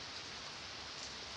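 Heavy rain falls steadily, a dense, even hiss of water with no pauses and no voices.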